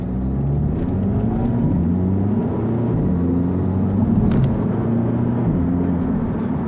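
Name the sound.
sports car engine revving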